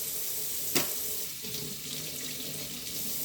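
Cool tap water streams into a kitchen sink over a peeled onion being rinsed, a steady close splashing flow with one brief sharp knock near the start.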